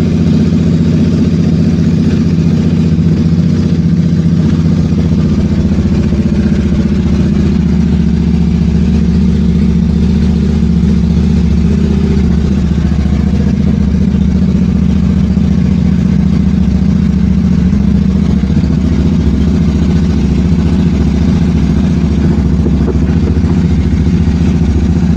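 Motorcycle or tricycle engine running loud and close, a rough constant rumble with a throbbing low drone that never drops away, held at high revs for the whole stretch.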